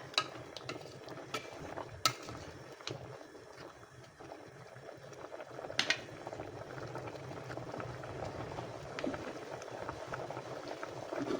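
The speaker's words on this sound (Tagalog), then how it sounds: "Kuluan pa ng kunti para luto yung gulay." Ginataang monggo with mixed vegetables bubbling in a pot, a continuous close burble of boiling liquid with a few light clinks of a utensil against the pot, no talk.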